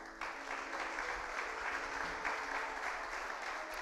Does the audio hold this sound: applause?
yes